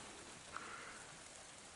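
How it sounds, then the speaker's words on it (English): Constant, steady but not heavy rain falling outdoors, a soft even hiss that stays level throughout with one small drip-like tick near the middle, and no talking. "It's not been a heavy rain, but it's just been a constant, steady rain."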